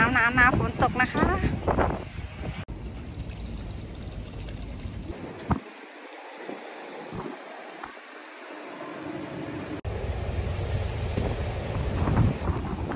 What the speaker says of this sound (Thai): ลมแรงมากๆเลยค่ะเพื่อนๆ